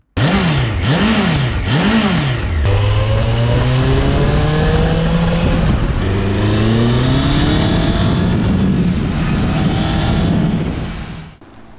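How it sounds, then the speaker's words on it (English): A classic Honda motorcycle engine howls through rising and falling pitch sweeps while revving, loud and close, climbing repeatedly through the gears before cutting off. "let's have a listen to the engine note, shall we?"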